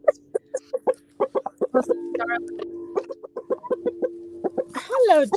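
Backyard chickens clucking close by in a steady run of short, repeated calls, with a person speaking softly among them and a louder squawk near the end.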